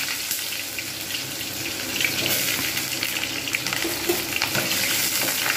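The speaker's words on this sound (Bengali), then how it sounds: "এর মধ্যে এবার আমি পটলগুলো আগে ভেজে তুলে রেখে দেবো" Pointed gourd (potol) frying in a pan, with a steady, close sizzle and crackle running throughout and occasional clinks and stirring scrapes, with no voices.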